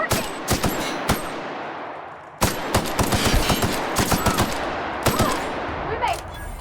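Gunfire in a firefight from the video game The Outer Worlds: loud bursts of rapid automatic shots and single cracks in clusters, with brief lulls between volleys, close and sharp.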